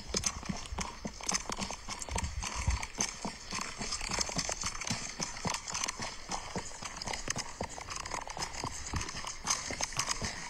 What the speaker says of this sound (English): this guy and his horse are walking down this road